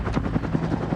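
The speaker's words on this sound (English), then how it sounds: "The UH-1 was also the world's first dedicated attack helicopter." A UH-1 Huey military helicopter drones loudly and close, its rotor blades thumping in a fast, steady rhythm over a constant engine roar.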